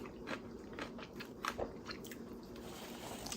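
Quiet, close chewing of smoked meat with a vinegar pickle, with soft crunchy bites and wet mastication recurring over a few seconds against a faint background hum.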